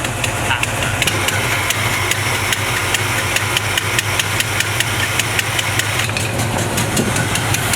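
A 1970 Chevrolet C20 engine idles steadily during carburetor adjustment, with a regular ticking knock pulsing through a rough mid-pitched rumble and a faint rattle, loud and near, no voices.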